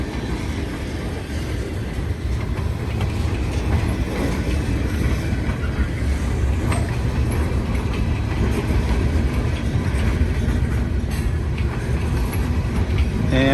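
A northbound train rolls past on an elevated curve, a steady, loud, continuous rumble and clatter of rail cars that holds at full strength for the whole stretch, with faint wheel noise riding on top.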